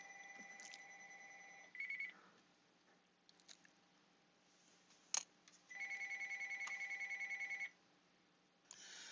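A telephone rings with an incoming call, sounding two electronic ringtone bursts several seconds apart, the second longer and steadily pulsing, heard close with faint room noise and clicks between them.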